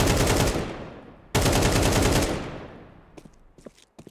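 An AK rifle firing in Counter-Strike 2, two loud, dense bursts of rapid automatic fire one after another, then a few fading shell clinks and tail echoes.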